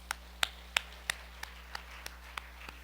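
A church congregation claps along during a sermon at a festival worship service, about nine sharp, evenly spaced claps sounding faint and distant over a steady low hum.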